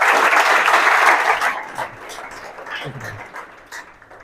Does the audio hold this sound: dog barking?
no